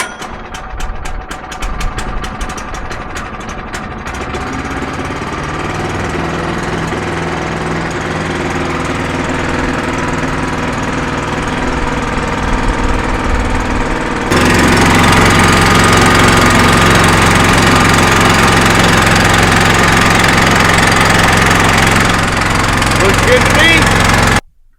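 An engine, apparently in a vehicle or machine holding a couple hundred gallons, runs steadily with a loud low rumble, jumping louder midway as it revs or settles in, then cutting off abruptly at the end.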